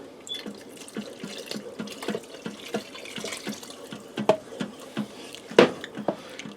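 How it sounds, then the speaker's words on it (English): Two cups of milk are poured into broccoli cheddar soup in a pressure cooker after quick release, making a soft, trickling, splashing liquid sound with small irregular plops and a brief louder splash near the end. "I'm going to add in 2 cups of milk."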